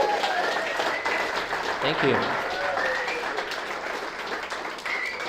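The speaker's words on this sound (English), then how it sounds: "I didn't say stop clapping" Audience clapping after a talk at an evening event, a broad dense wash of hands that runs the whole time, with a voice speaking over it and a few bird-like tones.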